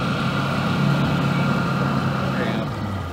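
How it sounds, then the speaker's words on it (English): A boat motor runs steadily during a sturgeon catch-and-release on the water, giving a loud, continuous low engine drone with a faint tonal whine throughout. "Oh, he heard the motor, huh?"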